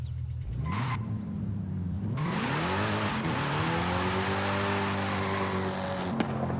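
Tuned, naturally aspirated car lightened to nearly 3,000 pounds in Forza Horizon 5, engine revving up through rising gear sweeps with a dip and squeal near the end, loud and continuous with no talking.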